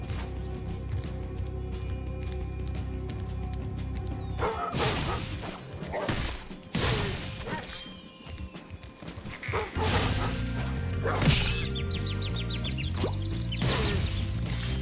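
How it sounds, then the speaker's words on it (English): Dogs barking in the Spyro Reignited Trilogy video game, with sharp repeated yips and barks over game music, alongside clip-clop and neigh-like effects. "I hate these dogs. I hate them."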